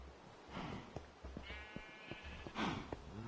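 Sheep bleating in a video game, a few short wavering bleats close by, separated by brief pauses, with soft background ambience and no talking.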